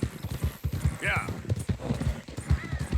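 Rhythmic clip-clop of horse hooves galloping during a race in the Red Dead Redemption 2 video game, steady and close throughout, with a brief whinny and voices talking over the hoofbeats.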